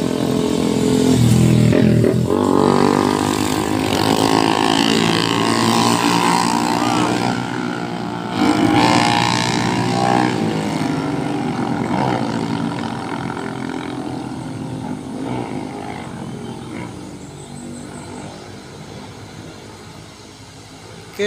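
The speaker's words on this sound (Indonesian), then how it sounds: "Diesel bermuatan tinggi PT IKC sudah naik tanjakan Kedabuan." A heavily loaded diesel truck labors up the steep Kedabuan hill, its engine roaring loud and close in a sustained low drone that swells and eases slightly as it grinds upward.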